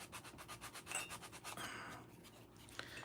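Sandpaper rubs back and forth over a small plastic pen part in quick, rhythmic strokes, faint and close, with a few scratchy passes near the end.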